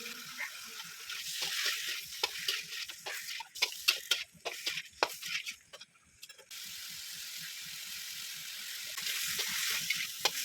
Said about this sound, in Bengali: দু মিনিট ভালো করে মশলাগুলো কষিয়ে নেওয়ার পর